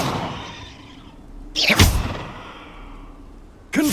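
Two bursts of a fire spell cast in Hogwarts Legacy, a sharp whooshing blast in the middle and another beginning at the end, over a low game background.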